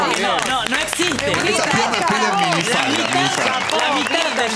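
A television studio audience claps and cheers in a sustained, dense wash of applause, with voices talking and calling out over it throughout.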